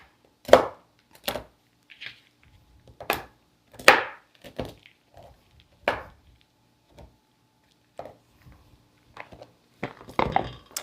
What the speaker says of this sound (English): I have 3 ounces of dark chocolate here that I am chopping up